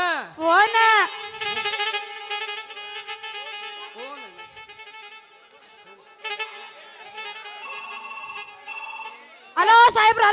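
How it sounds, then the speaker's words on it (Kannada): A telephone rings during a Kannada stage drama in Haveri, its repeated electronic bell tones carrying on for several seconds while a performer speaks loudly over them at the start and end. "ಫೋನೇನ ಫೋನ್"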